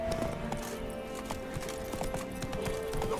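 A horse galloping in The Witcher 3, with rapid rhythmic hoofbeats on the ground under a steady game music bed, close and continuous.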